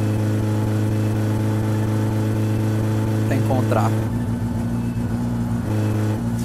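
A loud car engine in the video game My Summer Car drones steadily with a deep, buzzing tone, shifting pitch briefly as it revs, while someone speaks over it.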